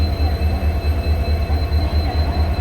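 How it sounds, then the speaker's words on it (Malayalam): A train pulling into a railway station platform, a steady low rumble with rhythmic pulsing of wheels rolling close by, plus a faint high steady whine, with no voices. "അപ്പോൾ ട്രെയിനൊക്കെ വന്ന് ഞാൻ ട്രെയിനിലൊക്കെ കയറി"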